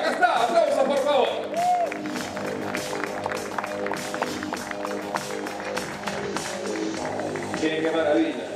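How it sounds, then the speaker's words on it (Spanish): Audience at a Renault Logan 2016 launch event breaks into sustained applause and cheering, a dense clatter of clapping under an excited announcer's voice. "¡Aplausos, por favor!"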